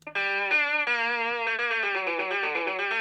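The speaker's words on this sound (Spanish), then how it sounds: "Primero la eléctrica hace el tema." Electric guitar plays a fugue theme in Bach style, a fast run of clear sustained notes with light effects and slight distortion, close and alone, with no talking.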